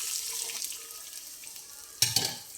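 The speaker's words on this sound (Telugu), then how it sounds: "గ్లాస్ సేమియాకి పొడి పొడిగా ఉండాలంటే గ్లాస్ వాటర్ వేయాలి" Water splashes into semiya upma in a hot pan with onions and chana dal, a sudden gush and sizzle near the end after a quieter stretch of faint hissing.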